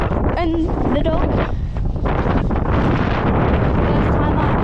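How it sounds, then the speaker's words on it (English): Strong wind buffets the microphone on an outdoor walk at Hawthorn Dene, a steady loud roar running the whole time, with brief voice-like tones near the start. "As you can see, it's nice and windy."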